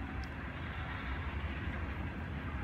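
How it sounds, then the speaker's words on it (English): Low rumbling train noise rolls on steadily throughout, a broad continuous roar with no voices. "Sorry about the train, guys."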